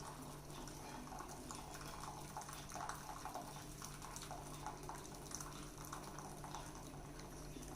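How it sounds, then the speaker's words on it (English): Excess water poured off cooked rice through a strainer into a bowl, a steady splashing stream with small surges that runs for several seconds without talk. "into this bowl strain the excess amount of water"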